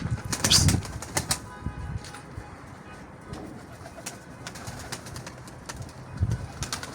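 Pet pigeons flying overhead in daytime and tumbling as they come down to land, with bursts of wing flapping near the start and end and soft cooing among faint outdoor background noise.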